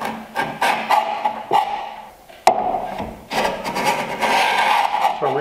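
A low-angle block plane is pushed over a wooden miter held in a miter jack, giving repeated rasping, rubbing strokes close by, each swelling and stopping, with a sharp knock partway through.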